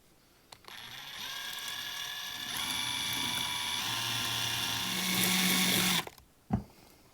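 A small tool from a cheap kit grinds against the axle head of a Matchbox Lesney #71 Ford Heavy Wreck Truck toy, a close, steady mechanical whirring and ratcheting lasting several seconds before stopping, followed by a brief clunk.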